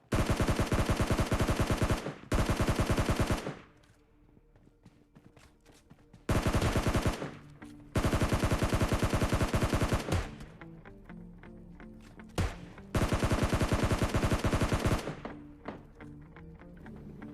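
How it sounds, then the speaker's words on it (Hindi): Automatic gunfire in the mobile shooter game PUBG Mobile Lite: several loud, rapid bursts of a few seconds each, separated by short quiet gaps and a couple of single isolated shots. "ऊपर की साइड से भी मेरे को एक गन की साउंड आता है"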